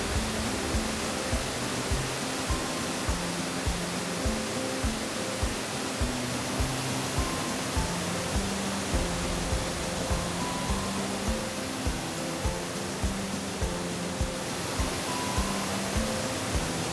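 Waterfall rushing steadily in a deep rock gorge, a constant broad roar of falling water with no let-up, heard alone without voices.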